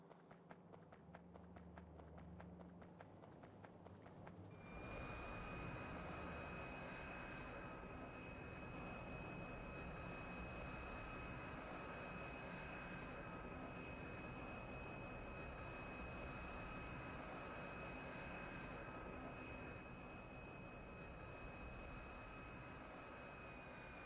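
A plane in Factorio starts up after a brief clatter of game sounds, then holds a loud, steady engine drone with a sustained whine laid over it, continuous and close for the rest of the stretch.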